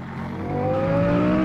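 A car engine in the Roblox Vehicle Simulator game revs steadily upward, its droning whine climbing in pitch and swelling louder over about a second and a half, with no talk.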